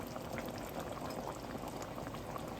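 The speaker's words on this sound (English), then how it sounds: "I'm frying some onion and the rest of my mixed vegetables." Onions and vegetables fry in a pan with a steady, close crackling sizzle that continues without a break.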